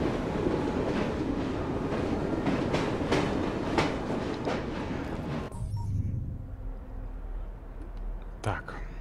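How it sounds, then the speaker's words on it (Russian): A steam-era train rolls along in Assassin's Creed Syndicate, a dense rattling clatter with rhythmic clicks that suddenly drops away to a quieter rumble, with soft speech-like murmuring under it. "Странно, поезд вроде показывает, что мы идем по маршруту"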